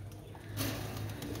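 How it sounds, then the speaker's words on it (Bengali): Soft, low cooing of white teddy pigeons comes through faintly, with a brief rustle in the middle. "একদম সাদা জগের কবুতর"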